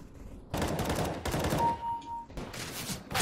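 Machine gun fire in Counter-Strike: Global Offensive, loud bursts of rapid automatic shots broken by a short gap, close and harsh, without talk.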